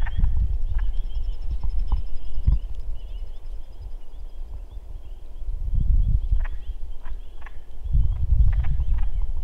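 Low, throaty frog croaking repeats in irregular bursts against a steady outdoor hum at a lake, with a high faint insect-like whine running throughout.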